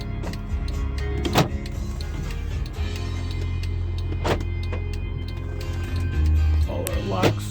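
Door lock actuators on a Mercedes ML500 firing in a few sharp, clunky thumps spaced across several seconds, over a steady low engine hum with a person talking nearby.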